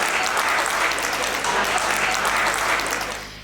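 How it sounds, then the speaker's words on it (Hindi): Applause from the audience at a Hindi kavi sammelan poetry recital: a dense, steady burst of many people clapping, fairly close and loud, lasting a few seconds before fading at the end. "आप लोगों को आनंद आ रहा है तो आप अपनी तालियां"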